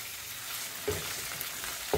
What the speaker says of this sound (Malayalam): നമ്മുടെ പെരിഞ്ജീരകവും കറിവേപ്പിലയും ഒക്കെ കൂടെ ഇട്ട് ശകലം ഫ്ലേവേഡ് ആയ ആ എണ്ണയ്ക്കകത്ത് ഇവന് ഒരു 1 മിനിറ്റ് ഒന്ന് ഇവനെ വറുത്തെടുക്കാം